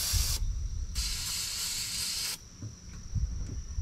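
Ether sprayed from a can into the engine of a Caterpillar 977 track loader revived after sitting over twelve years, heard as two loud, hissing bursts of aerosol with a short gap between, over faint low rumbling background.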